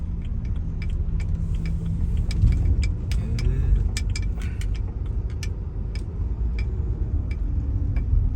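A car drives toward a resort near Pattaya and turns left, its engine and road rumble steady and close inside the cabin, with sharp ticking and jangling clicks like a turn signal or hanging keys over the drone.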